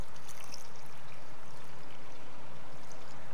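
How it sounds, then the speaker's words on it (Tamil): Boiled and cooled water is poured into a jar for homemade grape red wine, a steady close splashing stream with soft gurgling that runs continuously without pause. "ஸோ அதை வந்து ஊற்றிக்கலாம்"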